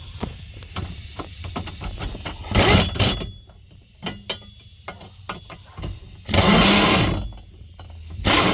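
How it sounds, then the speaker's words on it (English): 10 millimeter bolts are tightened on a 2007 Cadillac Escalade during a steering sensor change, with close ratcheting clicks and two longer bursts of a buzzing power driver. "Go ahead and tighten them bad boys up."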